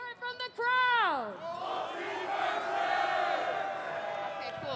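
A crowd at an esports tournament award ceremony roars and cheers, a loud sustained wash of voices following a brief rising shout at the start.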